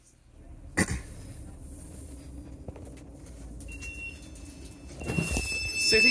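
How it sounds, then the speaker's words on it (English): Doors of a South Western Railway class 458 train screech, a thin, steady high squeal that rises over the low rumble of the carriage and grows louder toward the end. "As usual, 458s will make the screechy door sounds that everyone's used to hearing."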